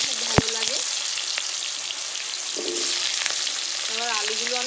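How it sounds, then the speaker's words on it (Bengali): Crab pieces and potatoes frying in oil in a pan, giving a steady close sizzle with occasional stirring clinks throughout. "এবার আলুগুলো আমি ভেজে নেব।"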